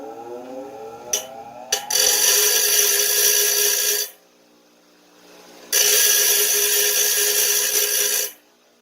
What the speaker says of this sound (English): we're going to cut this here. And grind the rough edges off.